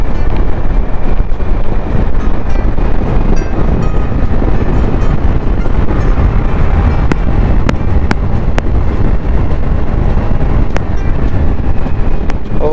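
A Honda Activa DLX 110cc scooter is ridden at speed with a pillion passenger, and loud continuous wind buffeting and road rumble cover the whole stretch, with a few faint clicks on top.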